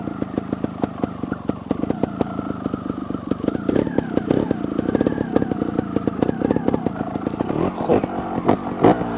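A trial motorcycle corners with lean at low speed, its single-cylinder engine putting out a close, steady chugging idle with small throttle blips and light clattering throughout.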